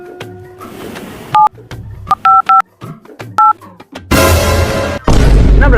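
A mobile phone being dialed, several short loud keypad tones tapped in an irregular rhythm, then a burst of loud noise near the end.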